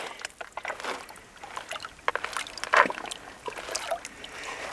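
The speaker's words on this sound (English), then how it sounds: "Give the pan another shake." Gold pan shaken in stream water, sloshing and trickling in uneven bursts close by over a steady outdoor stream background.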